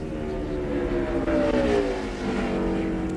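NASCAR stock car at speed on a 2003 Busch Series qualifying lap, a steady loud engine roar with a gently falling pitch as it sweeps past, continuous throughout with no talk.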